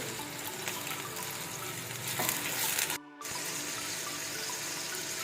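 Garlic and ginger fry in hot oil over onions for Punjabi achari aloo, a dense steady sizzle that swells briefly, cuts out for a moment, then resumes evenly, no talking.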